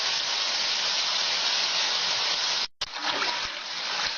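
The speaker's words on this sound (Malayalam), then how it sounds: "നല്ല ക്രിസ്പി വരുന്നവരെ നമുക്ക് വറുത്തെടുക്കാം." Sliced banana chips fry in hot oil in a home kitchen, giving a steady bright sizzle with a brief drop-out partway through, close and alone.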